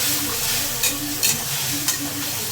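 Yam pieces fry in oil with a ground poppy seed and green chili paste, giving a steady close sizzle broken by a few sharp spits and stirring clicks.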